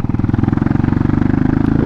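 A Hawk 250 Enduro motorcycle's single-cylinder engine runs close by while riding, a loud, rapid, steady thumping pulse with a gritty mechanical texture throughout.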